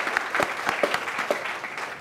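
Crowd at a community college groundbreaking ceremony claps with scattered, distinct hand claps, moderately loud and steady throughout.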